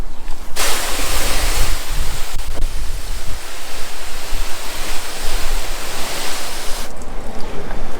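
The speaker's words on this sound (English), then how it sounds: "Water's still coming right off." A hose sprays water onto a ceramic-coated car, a loud, broad, continuous hiss of spray and runoff, close to the mic, briefly cutting off near the start and again near the end.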